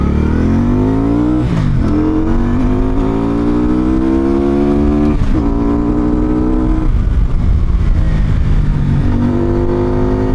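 A Benda Napoleon Bob 500 cruiser motorcycle engine roars loud and close, revving repeatedly with rising pitch sweeps and brief drops between pulls, a deep throaty drone running throughout.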